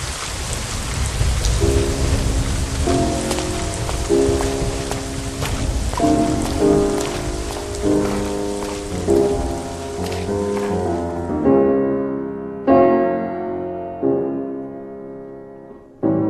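Heavy rain pours steadily with rumbles of thunder, blended under piano music on a stormy night, the downpour continuous and fairly loud before the music thins out.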